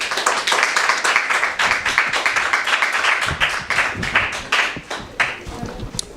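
Clapping from a small audience at a school quiz competition, quick irregular claps that thin out toward the end, close and clear with no talk.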